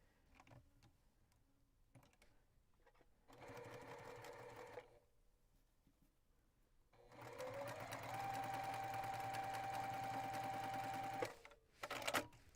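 Domestic sewing machine stitching pieces of a quilt block, close by, in two runs: a short burst, a pause, then a longer steady whirring stretch that stops abruptly, with small handling clicks and knocks around it.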